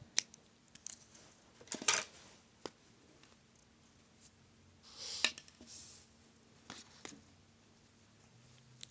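Scissors cut yarn while a bumblebee is crocheted, with a few sharp, close snips spread across quiet rustling and handling sounds.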